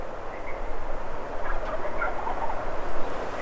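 Wild Rio turkeys gobble outdoors near a river, several rattling gobbles bursting out in quick succession at moderate distance over a soft background hiss, with no talking.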